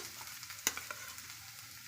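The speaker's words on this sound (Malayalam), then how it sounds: "ഇനി അതിലേക്ക് ചരുകി വെച്ച തേങ്ങ ഇട്ട് കൊടുക്കുക." Grated coconut frying and stirred in a pan, a light crackling sizzle with a sharp spoon scrape or clack partway through.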